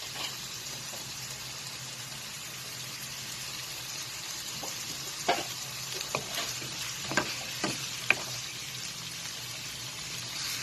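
Baby squid simmer in olive oil and garlic in a small pan, giving a steady soft sizzle and bubbling with a few sharper pops and occasional utensil clicks.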